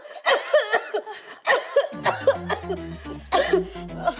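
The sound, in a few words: coughing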